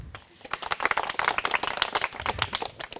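A studio audience on a Malayalam comedy game show breaks into brisk clapping, a dense, uneven patter of many hands that stays steady and fairly close for about three seconds.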